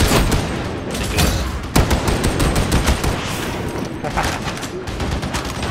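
Rapid gunfire from an ultimate ability in the video game Warhammer 40000 Darktide: a dense, fast stream of close, loud shots that keeps going with a few sharper cracks, and a voice speaks over the shooting.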